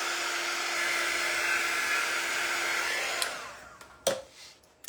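A hair dryer blows steadily on a tire being made for a scratch-built Snoopy door round, a loud continuous whoosh for about three seconds before it cuts off, followed by a few faint clicks and knocks.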